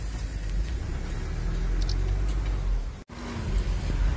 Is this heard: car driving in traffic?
yes